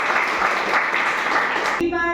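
Audience applause at an open mic event in Pune, a dense burst of clapping that cuts off abruptly near the end, where a voice begins speaking.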